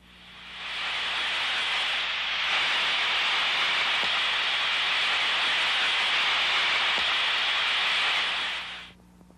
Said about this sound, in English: scan for a rushing sound or white noise